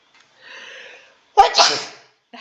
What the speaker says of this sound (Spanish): Disculpen por los estornudos